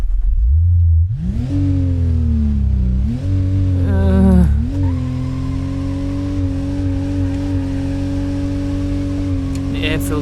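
Holden VL/VN car engine in BeamNG.Drive starting up and revving, a loud close tonal drone climbing in pitch, dipping, then surging before settling into a steady high idle, with talk underneath.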